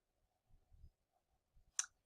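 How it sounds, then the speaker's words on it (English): A computer mouse clicks once, a crisp, quiet tick near the end after a few soft low thumps of handling in an otherwise silent room. "And then I'm going to click on split."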